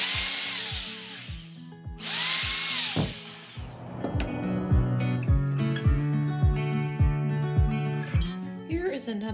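Power drill boring pilot holes into a small mosaic pendant, heard as short bursts of close, whining motor noise that start and stop, with regular light tapping and clicks between and under them.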